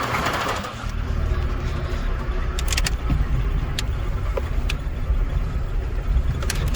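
A car engine idling loudly and steadily, with a rough rumble and occasional sharp clicks and rattles.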